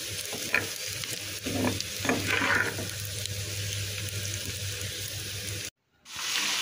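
Steady sizzling of food frying in a pan with very little oil, with occasional stirring scrapes, then a brief silence near the end.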